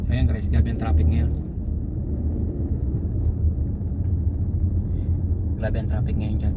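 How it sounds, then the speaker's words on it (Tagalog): Heavy road traffic is heard from inside a car as a constant low rumble of engine and road noise, with a voice speaking briefly at the start and again near the end. "grabe ang traffic ngayon"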